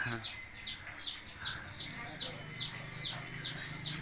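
Chickens cluck in a quick, steady string of repeated calls over a low background murmur, fairly close and moderately loud.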